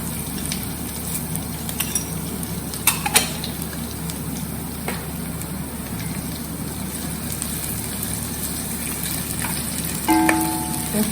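Rice with sugar fries in a pan over a low flame, a steady dense sizzle running throughout, with a few scraping stirs and clinks of the utensil standing out now and then.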